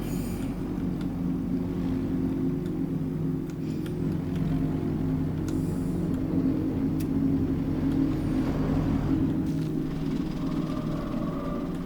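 A vehicle rumbles along a very bumpy ride through a forest in the video game Jurassic World Evolution 2, giving a steady, loud, low engine drone with faint rattles throughout and no talk.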